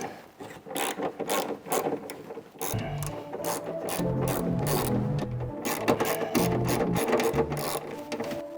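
A ratchet wrench loosening the 10mm bolts that hold a wiper motor on a Nissan 350Z. It clicks in fast, rapid bursts close up, with short pauses between strokes.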